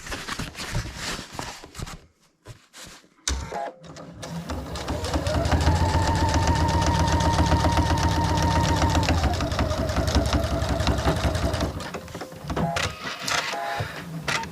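A domestic sewing machine stitches a zipper onto the front panel of an anorak, a steady rapid mechanical whirr that runs for several seconds, rises in speed and then stops, close and alone with a little handling noise.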